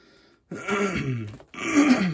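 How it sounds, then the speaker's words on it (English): A man clears his throat in two rough, gravelly rasps close to the microphone, separated by a brief pause, in a quiet indoor room. "Sorry, gotta clear my throat."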